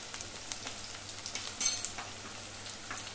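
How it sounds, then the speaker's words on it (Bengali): Onions fry in a pan with salt, a soft steady sizzle with occasional stirring scrapes and one sharper clink, close and fairly quiet with no talking. "পেঁয়াজ ভাজতে ভাজতে পেঁয়াজের মধ্যে স্বাদ অনুযায়ী নুন দিয়ে দেব"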